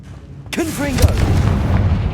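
A Confringo spell blast in Hogwarts Legacy booms once up close, with a deep rumbling tail and a spoken incantation just before the impact.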